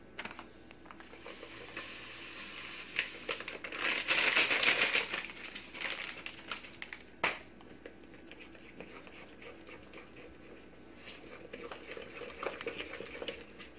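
Brownie batter with eggs and a packet of brownie mix sugar is stirred in a bowl, making quick rhythmic scraping and tapping with a louder burst of vigorous mixing midway, close up with no talking.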